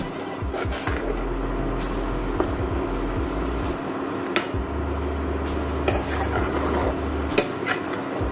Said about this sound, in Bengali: এইভাবে ভালো করে মিশিয়ে দেব আর নাড়তে থাকবো যাতে সম্পূর্ণটা ভালোভাবে দুধের সাথে মিশে যায়।